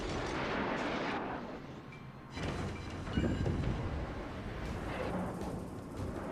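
Heavy naval guns booming in World of Warships as a battleship under a Yamamoto captain lobs shells at the cruiser Edinburgh, a loud rumbling wash of cannon blasts and rolling echoes with no talk.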